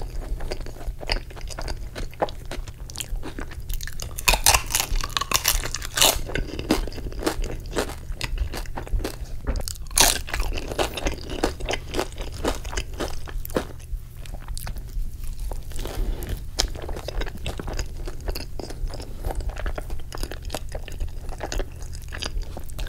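Someone eats a giant burrito of refried beans, cheese and carne asada, with close, steady chewing, soft biting and crunchy bites of chips repeating throughout, alone with no talk.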